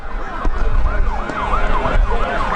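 Wailing fire truck sirens rise and fall repeatedly, sounding from a short distance at a baseball game over a low background rumble and faint crowd noise.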